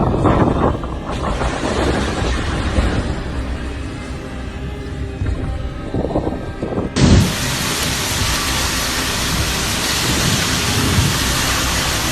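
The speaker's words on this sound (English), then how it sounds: "A powerful storm with heavy rain struck Ljubljana" Heavy rain pours steadily throughout a powerful storm in Ljubljana, Slovenia, with a deep rumble of thunder rolling in partway through before the downpour intensifies into a dense, constant roar.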